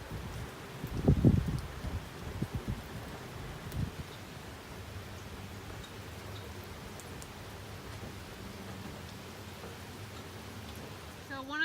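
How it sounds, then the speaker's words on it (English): Steady rain falls on a farm during a week of wet weather and rising floodwater. It makes a soft, even hiss, with a brief louder rustle near the start. "And we still got a week of rain ahead of us."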